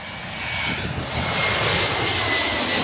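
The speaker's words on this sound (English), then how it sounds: "Oh, we've got another plane." A fixed-wing airplane passing over in wet weather, a loud engine roar that swells steadily and stays broad and close overhead, with no voices.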